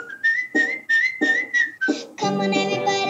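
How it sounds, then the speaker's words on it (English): A person whistles a bouncy tune in short repeated phrases, loud and close, with a sustained held note near the end. "whistle this tune right now"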